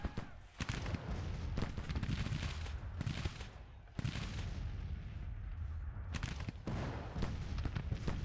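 Artillery and cannon fire in the Civil War strategy game Grand Tactician, with repeated heavy booms and crackling volleys over a dense, continuous battle din, loud and sustained with sharp bursts near the start and end.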